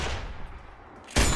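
A single sharp, loud gunshot cracks out in Sniper Ghost Warrior 2 after a stretch of quiet ambience, followed by a short ringing tail.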